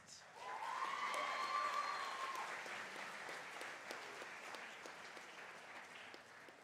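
Applause from the audience at a college valediction ceremony, a dense, fairly distant wash of clapping that rises quickly and holds steady with a faint whistle or cheer near the start before gently thinning out.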